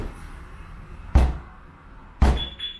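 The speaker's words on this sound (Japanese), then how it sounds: "今セキュリティオン中に少し叩きます" Two sharp, loud thumps about a second apart as a three-door car's body is tapped to test its security vibration sensor, with a faint electronic tone after the second hit.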